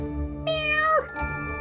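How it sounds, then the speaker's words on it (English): A cat, lost and sitting by a stream, gives a couple of sad, drawn-out meows close by, the first long and falling, the second shorter, over a low background hum. "But then she heard some sad meows."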